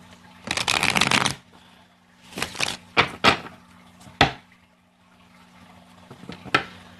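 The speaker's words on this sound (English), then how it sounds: "2 more shuffles" Tarot cards shuffled in separate bursts: one long riffle and then several shorter quick riffles and snaps, with quiet pauses between them and a low steady hum behind.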